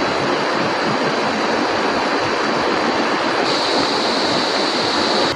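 A river flows past a fishing spot in a dense, loud, steady rush of water that stays unchanged throughout, with no voices over it.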